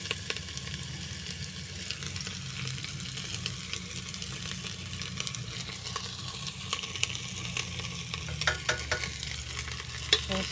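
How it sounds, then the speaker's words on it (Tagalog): Garlic, onion and ginger sauté in a pan while being stirred, a steady low sizzle under scraping strokes of the spatula that come in a cluster near the end, close and moderately quiet, with no talking. "haluin ko nang igisa ang bawang, sibuyas, luya"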